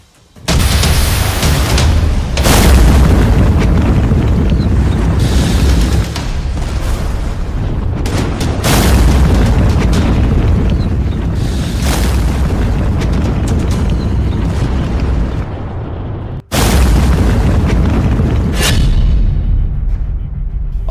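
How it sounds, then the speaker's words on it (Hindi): A drone blows up over Abu Dhabi with a series of loud, heavy explosion booms and rumbling blasts that stay close, with several sharp bursts and brief dips between them. "लेकिन तीसरा ड्रोन फट गया।"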